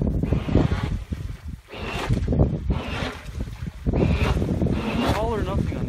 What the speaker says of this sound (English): sounds like a motor, like an engine.